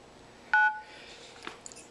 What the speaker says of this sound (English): Now I'm going to dial the number that's on this receipt